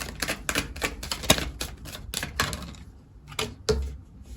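Tarot cards are shuffled by hand in a quick series of crisp riffling snaps and taps, close and fairly loud, with a short pause before a few final strokes.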